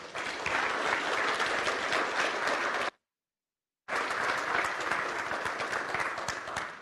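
An audience welcoming lecturer Rob High at Baylor with dense, sustained clapping from a large crowd, cut off briefly by a second of silence before the applause resumes at full strength.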